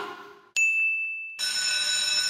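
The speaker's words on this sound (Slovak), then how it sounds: "Zvoní pre učiteľa, nie pre vás." A school bell rings in a classroom: a steady high electronic tone starts abruptly, then gives way to a louder, buzzier continuous ring that carries on to the end, with no talking.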